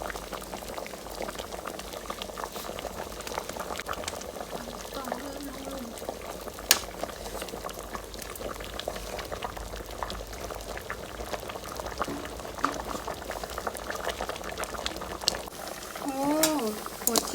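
A pot of bamboo shoot curry bubbles steadily at a boil, a continuous wet simmering hiss with soft popping bubbles throughout, close by, with a few faint clinks near the end.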